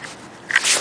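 Outdoors in the cold, one short, sharp sneeze bursts out near the end of a quiet moment, brief and close.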